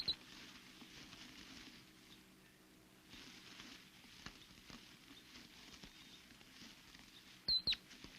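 A deer mouse stirs faintly in dried grass, giving soft, scattered rustling pats against a very quiet outdoor background, with a couple of slightly sharper crackles near the end.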